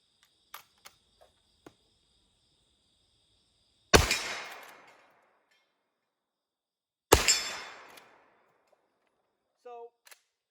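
Two loud, sharp .44 revolver shots at an outdoor shooting range, a few seconds apart, each followed by a short echoing decay, with small clicks and handling noises in between.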